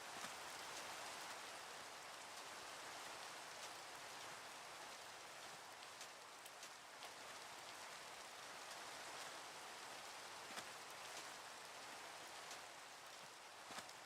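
Steady rain in a video game, a dense, even hiss of drops on surfaces with occasional louder spatters, continuous throughout with no voices.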